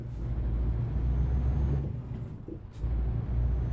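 A heavy tractor-unit truck engine in Euro Truck Simulator 2 drones steadily with deep low rumble, a brief hiss like an air brake near the end.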